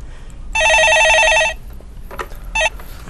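Telephone ringing on a stock-market call-in radio show, one long electronic trill for about a second followed by a short second burst, loud and close with no speech over it.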